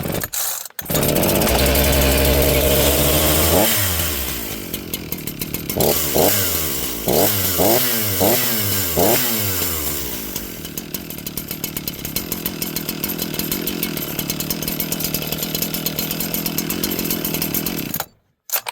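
A cold Dolmar chainsaw that had flooded starts and runs, its engine revving up in a series of rising and falling bursts before settling into a steady loud idle at close range, then cutting off.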